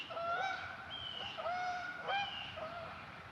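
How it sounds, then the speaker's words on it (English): Canada-type geese honking repeatedly as they fly over a lake at a state park at sunrise, a run of clear, fairly close calls without talk, over a low outdoor background. "geese are flying"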